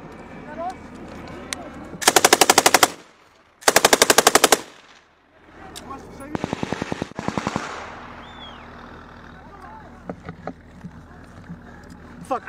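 Rifle and automatic gunfire in combat during the Russia-Ukraine war rips out in three loud, close bursts of rapid shots with short silences between, followed by quieter scattered pops and faint voices.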